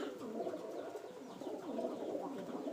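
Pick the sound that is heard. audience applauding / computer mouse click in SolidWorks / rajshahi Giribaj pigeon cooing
rajshahi Giribaj pigeon cooing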